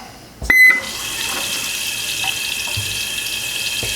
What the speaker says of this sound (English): So we'll turn this on now and watch the basin fill up.